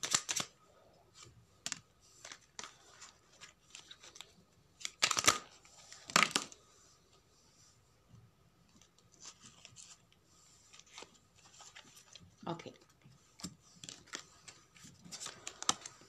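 Tarot cards shuffled by hand in irregular riffling and tapping bursts, close and fairly quiet, with soft rustles between the louder clusters and no talking.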